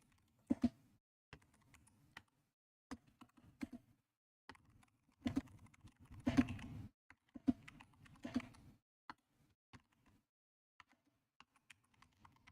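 Typing on a computer keyboard in a typing test, bursts of sharp key clicks with short pauses, quiet and close, with no talk.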